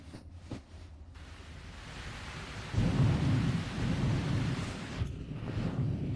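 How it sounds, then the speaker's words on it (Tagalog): A sudden heavy downpour with thunder: a deep rumbling roll builds and swells midway over a steady hiss of rain, loud and close, then eases slightly toward the end, with no voices present. "Biglang bumuhos ang malakas na ulan ngayong rush hour."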